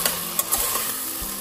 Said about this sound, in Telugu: సో కొంచెం పసుపు వేసేసుకొని ఇట్లా కలిపేసుకొని